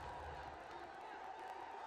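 A stadium crowd at a BPL 2017 T20 cricket match between Dhaka and Sylhet Sixers roars after a wicket, a broad, continuous cheer with distant whoops, heard at a steady moderate level.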